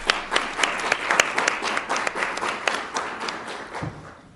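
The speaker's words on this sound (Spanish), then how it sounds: "Fuerte aplauso." An audience applauds João César de Castro Rocha at a university literature event, a steady wash of many hands clapping with sharp individual claps standing out, sustained and fairly loud throughout.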